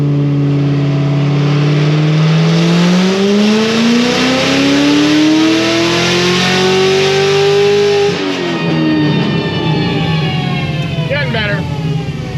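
A car with an AWE exhaust roars hard on a dyno pull, its pitch climbing steadily for several seconds before dropping off into a rumbling decel, very loud and close; voices talk over parts of it.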